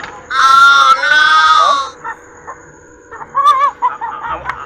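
Chickens cluck and a rooster lets out a loud, drawn-out crow nearby, followed by scattered shorter clucks and calls.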